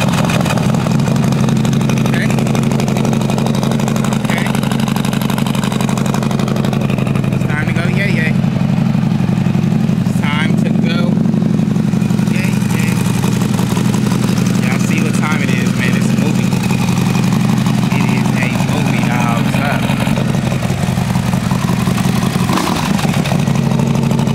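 A Harley-Davidson CVO motorcycle engine rumbles loud and close, a continuous deep throb at idle lasting over twenty seconds, with a voice briefly speaking over it.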